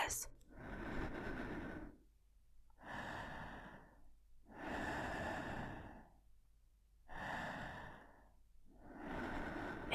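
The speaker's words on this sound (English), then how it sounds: "Is he breathing on me?" Heavy, slow breaths come very close to the ear, five long drawn-out exhalations in a regular rhythm with quiet gaps between them, in a still night-time room.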